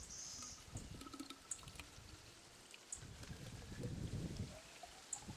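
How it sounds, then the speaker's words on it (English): Sugar water pours into a Stokes Select Royal hummingbird feeder, a faint, close trickling and splashing with soft clicks and handling noises, very quiet overall. "So I'll fill this up with sugar water."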